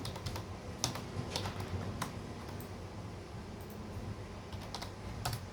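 Close, quick tapping on a computer keyboard, with a steady run of light clicks and a few sharper key strikes over a soft background hum and no speech.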